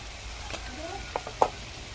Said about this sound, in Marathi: त्यानंतर कांदा घालायचा आहे.